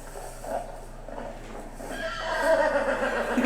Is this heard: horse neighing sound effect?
yes